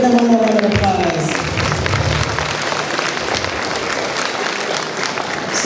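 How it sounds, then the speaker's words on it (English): An audience at an annual awards and anniversaries soiree gives a round of applause, steady dense clapping with some crowd cheering; a voice and a brief tone are heard at the start. "Let's give them one more round of applause."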